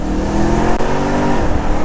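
A supercharged BMW E90 M3 accelerates hard, its engine a loud, dense roar that climbs steadily in pitch with a brief dip partway through, recorded close up.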